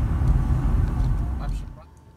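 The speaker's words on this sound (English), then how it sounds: "now I gotta go back to driving" A car driving at a busy fair with crowds around, its engine and road rumble loud and low at first, then fading away over the last half second.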